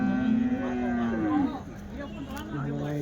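Cattle at the Punganur weekly cow market low with a long, deep moo followed by a shorter one, close and clear over a murmur of market chatter.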